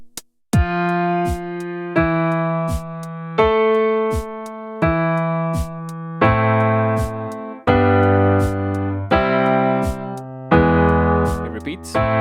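Piano plays the chords of a song, a sequence of sustained struck chords in steady rhythm, growing fuller and louder in the second half, with no talking over them.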